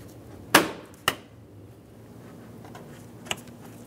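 Headlight assembly on a 1998-2002 Lincoln Navigator snapping into place, a sharp plastic click followed by a second smaller click and a faint tap later, close up in a quiet garage.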